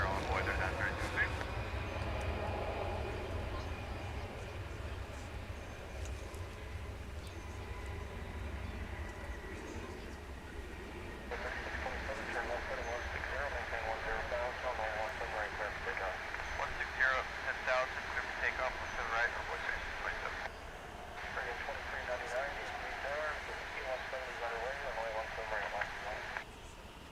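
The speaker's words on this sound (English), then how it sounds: "There's an A319, American flight 1736 on its way to Madison, Wisconsin, and it's now rolling." An American Airlines Airbus A319 rolls for takeoff on a runway, a steady broad jet roar heard from a distance under ongoing talk and radio chatter.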